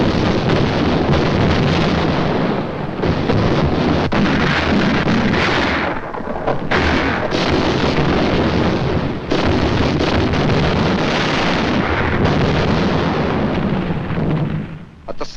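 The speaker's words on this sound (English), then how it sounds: "they could secure some protection from the heavy Jap naval gunfire" Heavy naval gunfire and artillery shelling during the wartime battle for Shanghai, a dense, continuous roar of booming blasts and rumbling explosions with brief lulls, loud and close throughout.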